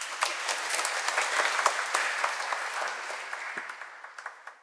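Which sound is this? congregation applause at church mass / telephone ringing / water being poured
congregation applause at church mass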